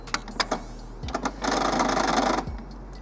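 An Epson XP345 inkjet printer running a print head cleaning cycle: a few sharp mechanical clicks and knocks, then a steady whirring run of about a second that stops with a clunk, heard close and alone.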